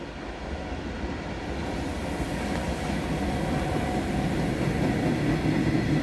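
An ICE-T tilting train runs through a railway level crossing at Ludwigsau Friedlos near Fulda, a loud steady rumble and wheel roar building as it passes close by.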